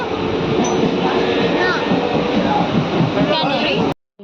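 Steady broadband rumble from inside a moving train in Bengal, loud and continuous throughout with faint voices in the carriage, cutting off abruptly near the end.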